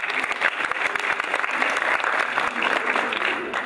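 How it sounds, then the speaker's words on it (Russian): Steady, dense applause from a television comedy-contest studio audience, loud and sustained throughout without pause. "давайте похлопаем Наташе"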